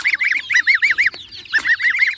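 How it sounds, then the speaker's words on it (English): Young geese kept in a coop honk in quick repeated bursts, close and loud, in a choppy rhythm of short nasal calls with brief pauses between groups. "The geese need to be moved into the bigger coop."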